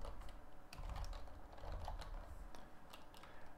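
Rapid clicking of keys on a computer keyboard, typing steadily through the whole stretch with no talk, close and moderately loud.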